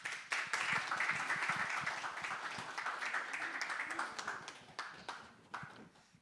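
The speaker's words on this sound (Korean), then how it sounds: "모두 큰 박수로 맞이해 주십시오." A church congregation gives warm applause welcoming a pastor at a thanksgiving service for a new venue opening, a full crowd clapping that swells and then thins out toward the end.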